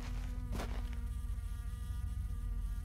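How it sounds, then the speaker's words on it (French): Small flies buzz steadily and closely around a bus stop in a video game, a constant insect drone with no talking. "Plein de petites mouches là."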